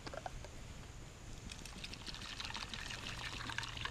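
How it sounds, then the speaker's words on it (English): Water poured into a cooking pot at a bushcraft campsite, a faint trickling pour that rises and continues steadily to the end. "put some water in there"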